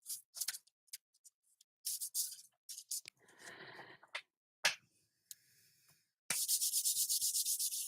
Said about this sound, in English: Give them another shuffle.